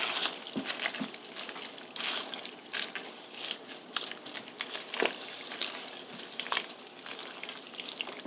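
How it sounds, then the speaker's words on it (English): Spinach being stirred into a pot of Italian sausage soup, a steady low sizzle with soft wet scraping and occasional clinks of the spoon against the pot, moderately close and without talk. "And I'm just going to give it a stir."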